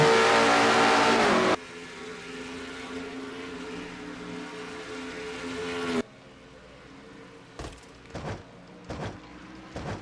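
Race cars roar around Watkins Glen in a racing video game, a loud close pass giving way to a softer, continuous engine drone with a few short bursts near the end.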